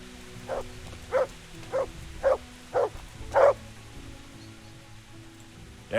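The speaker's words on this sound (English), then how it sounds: "There's the good doggy." Six sharp dog barks in Kingdom Come: Deliverance ring out at a steady, evenly spaced rhythm, each one loud and clear over a low, continuous ambient hum.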